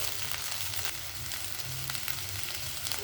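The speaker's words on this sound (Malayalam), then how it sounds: "ഉള്ളിയൊക്കെ നല്ല വഴണ്ട് വന്നിട്ടുണ്ട്. പൊട്ടറ്റോയും കോളിഫ്ലവറൊക്കെ നല്ലോണം വഴണ്ട് വന്നിട്ടുണ്ട്." Onion, potato and cauliflower sauté for aloo gobi, a dense continuous sizzle filling the pan with a few faint scrapes, close and fairly loud, no voices.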